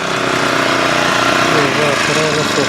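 A small engine-powered weeder, the Vithumauli engine kolpe used for clearing grass between banana and pomegranate rows, runs with a steady, loud mechanical drone throughout, with no pauses.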